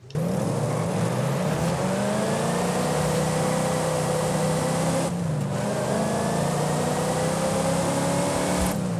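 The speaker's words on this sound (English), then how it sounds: "let's go ahead and take a listen to the engine" A 1500 hp AMC Javelin in the game Forza Horizon 5 revs up in two long, loud climbs with a brief drop between gear shifts, a sustained steady roar throughout.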